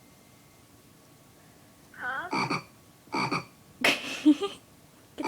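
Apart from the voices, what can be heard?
frog croaking sound played from a toy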